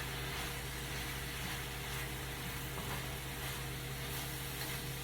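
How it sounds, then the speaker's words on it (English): Goya black beans stirred in a hot pan, a steady soft sizzle and frying hiss with faint stirring scrapes, close and continuous without talk. "And I'm going to just keep stirring this"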